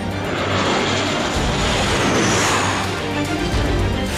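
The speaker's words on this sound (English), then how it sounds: "performance of supersonic fighter" FA-50 Fighting Eagle supersonic fighter jet roaring steadily and loudly, a broad sustained engine rush with a slight swell midway.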